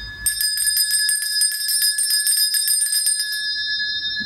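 An electronic doorbell chime rings loud and close, a bright repeating metallic ring that carries on steadily for about three seconds before fading out.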